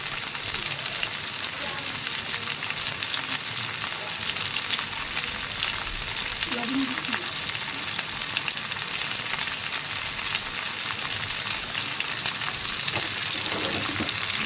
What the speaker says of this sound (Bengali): ঢেঁড়স ভাজি করতে এত সময় লাগে না, 5 মিনিটের মধ্যে ঢেঁড়স ভাজি হয়ে যায়